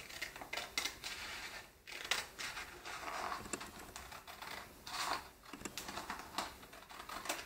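Repeated snipping of scissors cutting paper, quick irregular clicks and rustles, close but quiet, with no voices.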